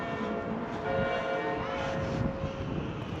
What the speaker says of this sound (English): Oh, I caught the bells right on time.